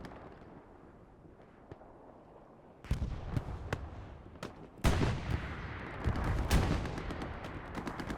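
A PIAT anti-tank rocket fired during a Tobruk match in a World War II game, a loud sudden blast followed by a string of sharp gunshots and booming explosions over battlefield rumble.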